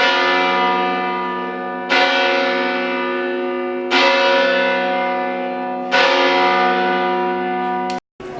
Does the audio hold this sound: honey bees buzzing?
no